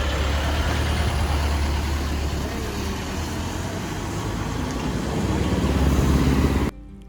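Heavy vehicle engine rumbling steadily as a school bus pulls away nearby, a loud continuous drone with a faint air-brake hiss, cutting off abruptly near the end.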